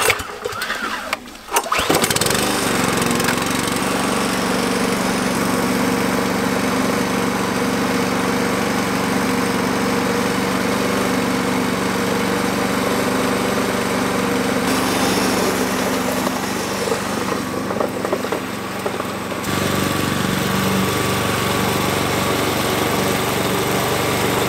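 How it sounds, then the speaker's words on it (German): A mulching lawn mower cuts grass at its lowest height setting. After a brief rough start it settles into a loud, steady, continuous motor drone close by, with no talking. "Kurz, ich habe es auf der tiefsten Stellung gleich gemäht."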